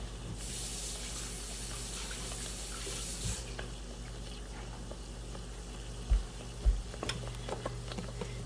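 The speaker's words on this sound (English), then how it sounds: "Let me rinse off my spoon one more time for you guys." Tap water runs steadily into a kitchen sink as a spoon is rinsed during tomato bisque soup preparation. A brief rushing burst plays at moderate volume, then softer clinks and handling noises follow. No voices are heard.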